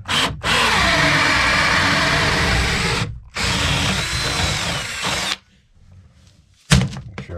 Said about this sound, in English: I'm going to use a brand new 1/2-inch paddle bit.